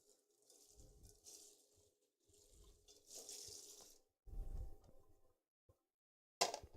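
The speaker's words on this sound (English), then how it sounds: "extract the parts I threw in here and rinse them off real quick" Parts from a pizza-making session rinsed off under a running kitchen sink faucet, water hissing in several bursts with short pauses between, then a sharp clatter at the end.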